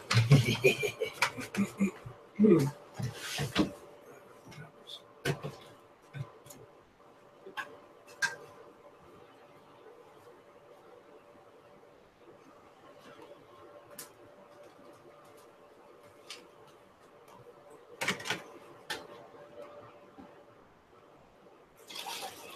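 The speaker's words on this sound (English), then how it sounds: "I'm making coffee" A Keurig coffee maker brews coffee in a bedroom, a quiet ongoing trickle and drip with faint machine hum, broken by scattered louder clicks and knocks nearby.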